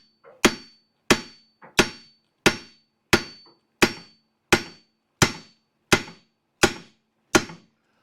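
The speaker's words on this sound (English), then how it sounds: "I'll smack it with a hammer a couple times" A hammer strikes a seized front suspension part eleven times in a steady rhythm, each loud metallic clank ringing briefly before the next, some blows preceded by a lighter tap.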